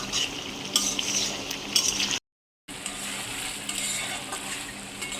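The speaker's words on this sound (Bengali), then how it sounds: "একটু করে জল না দিলে কড়াই আটকে যায় কলা লেগে যায় তাই জল দিয়ে দিয়ে কষলে ভালো কষাটা হয়" Potato curry for a vegetarian aloo dum sizzles in a kadai with a splash of water while a spoon scrapes and stirs it, close and steady, with metallic clinks over the frying hiss and a brief break in the middle.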